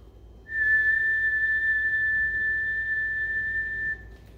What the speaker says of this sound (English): I'm not whistling very well today